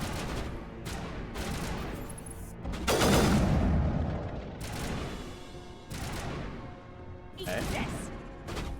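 Gunfire in the Mass Effect cover shooter rings out in repeated bursts over about nine seconds, with a heavier volley near the middle, while people talk over the shooting.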